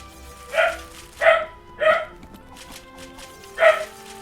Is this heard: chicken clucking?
no